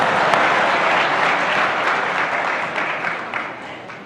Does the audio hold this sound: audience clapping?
yes